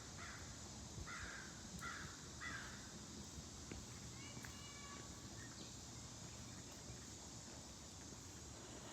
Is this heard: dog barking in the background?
no